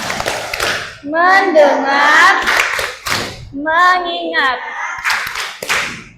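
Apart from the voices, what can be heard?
class clapping rhythm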